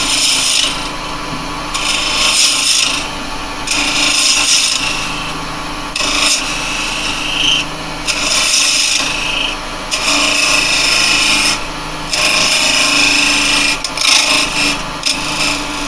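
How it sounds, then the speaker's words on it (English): A square carbide chisel cuts a coconut spinning on a wood lathe, giving loud, rasping scrapes in repeated bursts of a second or two over the lathe's steady motor hum. "for this, I'm going to use a square carbide. I'm well above, and I'm just going to come in like this"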